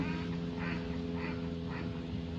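From a tree at a secluded lakeside in late afternoon, a long-tailed bird resembling a myna gives three brief, raspy calls at an even pace, moderately distant, over a constant droning hum.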